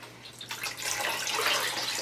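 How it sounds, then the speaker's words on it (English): Water squeezed by hand from soaked, salted rabbit skins during tanning, splashing and draining in a steady, fairly loud hissing stream that swells after a soft start, with no talking. "So we're going to just squeeze the water out. You can drain it if you want"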